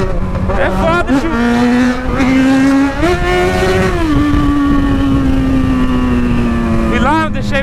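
A motorcycle fitted with a green aftermarket exhaust and green wheels revs loudly and rides steadily close by, its engine note rising and falling throughout, with someone talking over it.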